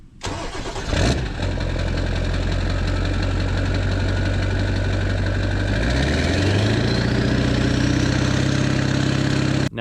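A 7.3 Powerstroke diesel with straight pipes idles loud and close, a steady rough knocking rumble with a brief revving swell partway through, and no talking.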